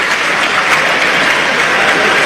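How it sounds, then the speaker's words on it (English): Southampton supporters at a Coventry versus Southampton football match give a smattering of applause as the Saints substitutes warm up, a steady distant wash of clapping across the stadium. "the smattering of applause you can hear from the Southampton supporters as the Saints subs warm up"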